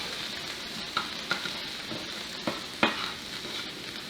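Diced jalapeños, onions and peppers sauté in a pan for carne guisada, a steady soft sizzle broken by a few stirring clicks.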